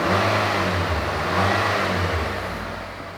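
A quiet Nissan car engine with dual exhaust runs at a smooth, steady low hum, swelling slightly as it revs and then easing off, heard up close with no one talking.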